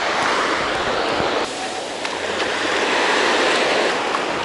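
Ocean surf on a Florida beach in November, a broad steady wash of breaking waves with a brief dip and swell, loud and close without speech.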